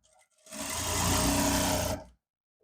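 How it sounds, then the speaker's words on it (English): An electric sewing machine runs a steady burst of stitching for about a second and a half on elastic for unisex jogger trousers, starting and stopping abruptly, close and fairly loud. "Make sure you're not sewing on your elastic. It should be sewed on its own."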